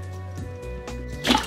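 Water drips and splashes off a squishy toy figure just lifted out of a fish tank, a run of soft wet drips ending in a brighter, louder splatter near the end.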